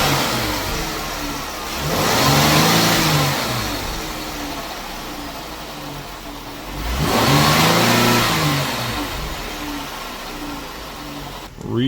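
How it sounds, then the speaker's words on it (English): A 2016 Chrysler 300S engine revs up twice in a tight garage, each rise swelling to a throaty roar before settling back to a steady idle. "Engine sounds real good though."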